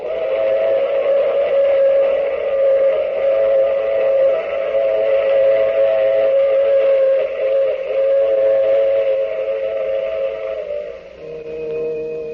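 Train effect in an old radio drama, a long sustained steam whistle blowing loud and steady for about eleven seconds over a rolling rail rumble, then dropping to a lower, quieter tone.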